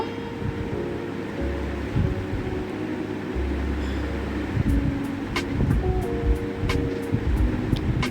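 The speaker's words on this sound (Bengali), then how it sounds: "বেগুনটাও ভেজে নেব।" Eggplant fries in hot oil with a steady, hissing sizzle and scattered sharp crackles, over a low background hum in a home kitchen.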